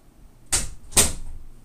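Two quick, crisp paper snaps come about half a second apart as a trading-card deck is cut and shuffled at a Kaijudo tournament final. The snaps are close and sharp, then fade into quiet room noise, with no voices.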